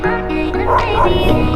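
A dog barks and yips close by, a few sharp, strained calls run together over a low Benelli motorcycle engine rumble on a road in Bolivia.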